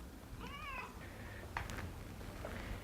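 A house cat named Padlover gives a single wavering meow near the start, followed by a few faint chirps over low background rumble.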